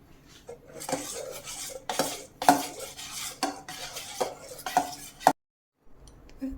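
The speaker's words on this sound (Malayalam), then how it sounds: "ഇത് രണ്ടും കൂടെ നല്ലതുപോലെ ഇളക്കി മിക്സ് ചെയ്യാം." Spoon stirring mango pieces and reduced condensed milk together in a bowl, a run of irregular clinks and scrapes against the dish, close and fairly crisp, ending in a short silence.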